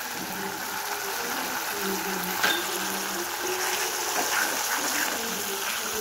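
Water splashes and sizzles into a pan of frying chilli chicken, a steady close gushing hiss with faint clinks and no talk.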